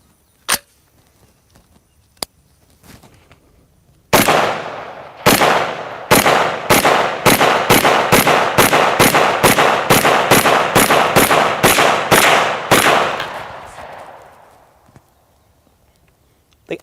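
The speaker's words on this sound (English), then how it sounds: "let me show you what these rounds do to melons" An AR-15 fires a rapid string of rounds into watermelons outdoors, a sharp single shot first, then about a dozen loud, evenly spaced cracks with ringing echoes that fade out.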